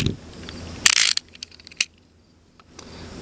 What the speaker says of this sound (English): What I would recommend for this is simply to take a knife and to just trim that right off.